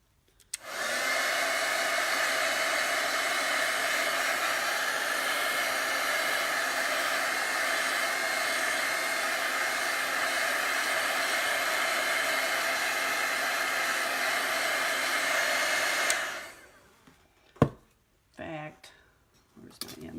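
A hair dryer runs in a steady, loud, unbroken whoosh for about sixteen seconds while drying chalk paste on a sign, then cuts off, followed by a few clicks and handling noises.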